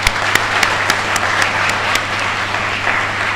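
An audience at a memorial lecture in Accra applauds, a brief steady patter of clapping with a few sharper individual claps standing out, with no speech.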